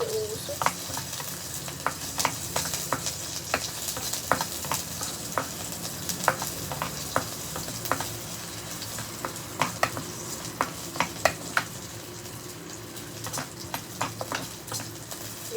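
Garlic sautés in a pan for ginisang corned beef, a steady sizzle broken by frequent sharp spatula clicks and scrapes against the pan in an uneven stirring rhythm.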